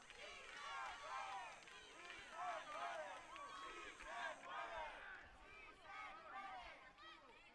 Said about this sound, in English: Catalonia is cheering for Spain on the sides here.